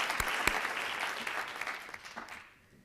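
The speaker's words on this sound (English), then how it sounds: "I think that in itself deserves a round of applause." A symposium audience at a food-is-medicine event breaks into applause, a dense continuous clapping with a couple of sharp close claps early, gradually thinning and fading out near the end.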